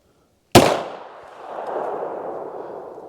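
A .380 pistol fires one Black Hills Honey Badger round: a single loud, sharp report that trails off into a long reverberant decay, with no talk over it.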